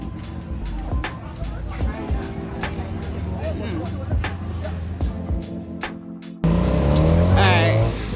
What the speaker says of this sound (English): Now I'm in a tuk-tuk.